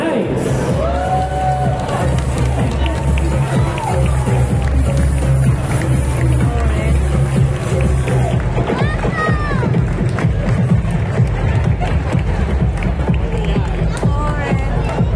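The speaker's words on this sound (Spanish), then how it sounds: "Un fuerte aplauso para" A crowd at a cosplay runway at Japan Weekend Valencia cheers and whoops throughout, a dense roar of voices with scattered shouts and some clapping, loud and continuous.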